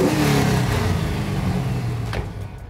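A modified car that looks like a Mazda Miata revs hard at a classic car show, a loud, close engine roar that swells briefly and then fades off as it drops back.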